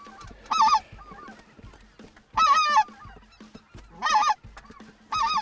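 White-fronted geese give four loud, close, wavering honking calls in steady succession, with quieter goose chatter between them during a hunt.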